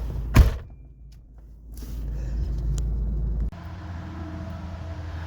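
A 2001 Ford F150 XLT SuperCrew with a 4.6 engine, back running after sitting for months, is heard with a thud, then a steady low engine rumble building as it drives down the road, with a sharp knock near the end.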